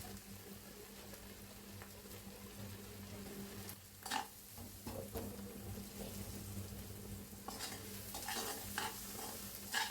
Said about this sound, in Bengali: আমি ধুয়ে রাখা মুসুরির ডালটা দিয়ে দিলাম।